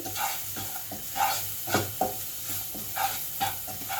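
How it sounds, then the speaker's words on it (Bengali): Spiced masala stirred in a pan after salt and sugar go in, with rhythmic scraping strokes of a spoon over a continuous frying sizzle, close and fairly loud. "হাফ চামচ নুন, হাফ চামচ চিনি দিয়ে ভালো করে নাড়িয়ে"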